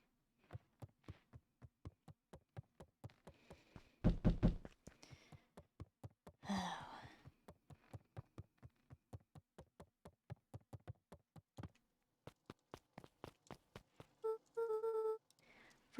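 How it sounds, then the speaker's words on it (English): Steady knocking on a door in the adventure video game Beacon Pines, a long run of evenly spaced taps close and clear, with brief louder bursts of other game sounds partway through and near the end. "that knocking sounds so realistic"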